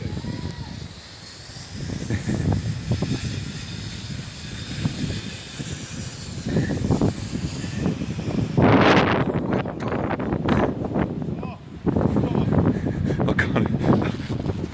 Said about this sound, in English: Can't even stop filming, it's too windy.